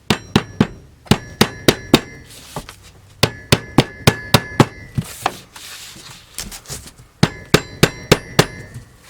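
Specialty tools bang vintage motorhome parts together during a camper restoration: sharp metallic hammer strikes fall in quick bursts of four to six blows with short pauses, loud and close, and no one speaks.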